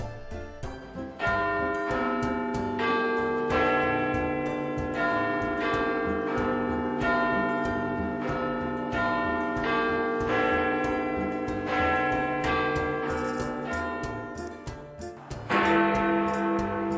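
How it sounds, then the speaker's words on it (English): Big Ben's quarter bells in the Westminster belfry in London ring out a melody, several loud resonant strikes in a slow sequence whose tones overlap and hang in long decaying washes, with a fresh strike near the end. "In addition to Big Ben, 4 smaller bells hang in the belfry."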